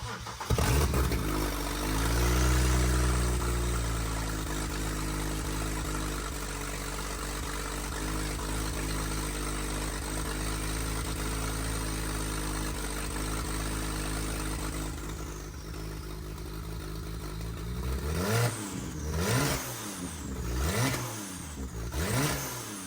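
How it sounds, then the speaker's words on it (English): A BMW N54 engine with turbos and no downpipes, started cold, idles with a steady loud drone, then blips up to about 2,000 rpm in several quick revs near the end. "And you can already hear the turbos like a lot."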